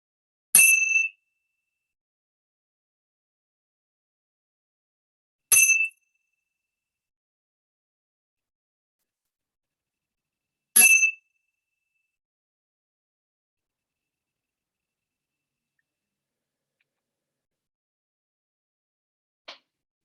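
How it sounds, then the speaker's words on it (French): A meditation cymbal is struck three times, evenly spaced about five seconds apart, each bright ring decaying quickly into silence, followed by a faint final touch near the end; no one speaks. "Écoutez la sonnerie de la cymbale"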